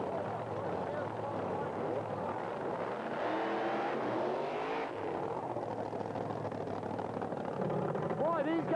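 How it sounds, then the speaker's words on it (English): Engines roar throughout as a Jeep drag racer pulls a wheel stand off the start line at an Australian drag strip in the 1980s, with a steady loud rumble that swells in the middle while a commentator talks over it. "did you see the wheel stand on the Jeep as he left the start line?"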